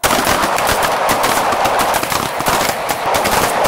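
Handguns fire during a close retention shooting drill on a range, a dense rapid volley of sharp, loud, overlapping shots from several shooters, close by and without pause.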